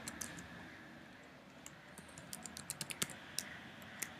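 Typing on a computer keyboard while writing C++ code, a quiet run of light key clicks that grows into a quicker burst of sharper taps near the end, with no talking.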